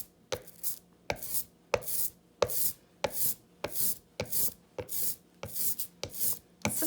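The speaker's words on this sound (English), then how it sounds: "What I'm doing is trying to roll that out quite evenly. It's got a real tacky sound to it." A paint roller works tacky printing ink evenly across a carved block, giving a sticky, crackling rasp in regular repeated strokes, close and fairly quiet with no talk.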